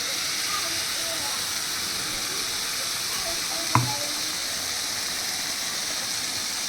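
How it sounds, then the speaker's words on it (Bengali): Yogurt added to a sizzling pan of doi katla fish curry base gives a steady, moderate frying hiss with one brief sharp clatter midway. "এবার আমি দিয়ে দিচ্ছি এর মধ্যে এই দইটা"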